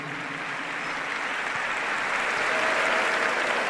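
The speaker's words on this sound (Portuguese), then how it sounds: "Palmas para Jesus." A church congregation applauds during a sermon, a steady wash of clapping that holds throughout, moderately loud and slightly distant.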